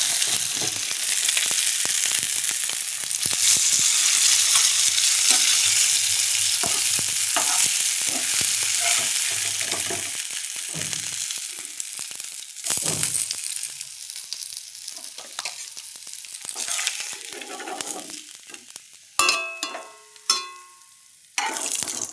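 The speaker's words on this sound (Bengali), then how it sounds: "দেখো মাছটা একটু চপিট করে সুন্দর করে লাল লাল করে ভেজে নিলাম।" Soft pabda fish shallow-frying in oil until reddish, a loud, dense, continuous sizzle close by that thins out partway through, leaving quieter crackles and sharp utensil clinks near the end.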